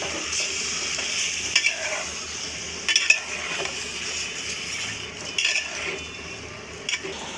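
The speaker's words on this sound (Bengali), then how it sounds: "মাংসটা তেলের ভিতরে দিয়ে দিছি গরম তেলে এখন মাংসটা ভালোভাবে একটু ভাজে নিব" Chicken meat frying in hot oil crackles in a steady close sizzle, broken by several clinks and scrapes of a spoon against the pot.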